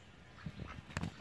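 Nesting ducks give short quacks, two brief honking bursts close by against quiet background hum.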